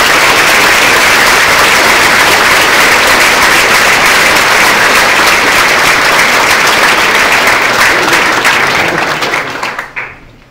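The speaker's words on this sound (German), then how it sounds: "nochmal einen richtig kräftigen Applaus verdient haben" A large audience at a rollout event gives loud, sustained applause for the Edge 12 team, dense rapid clapping filling the room before tapering off and fading out near the end.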